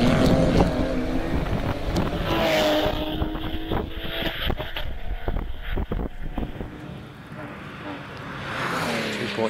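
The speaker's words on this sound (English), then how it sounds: "Wayne Eason into Farmhouse with the Boxster" A 2.7-litre Porsche Boxster at the Harewood hillclimb, its engine roaring loudly up through the gears, then fading as it passes, with wind buffeting and a commentator talking over it.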